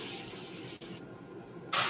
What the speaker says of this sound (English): we're going to spray over the purple and see if it helps dull it down just a little bit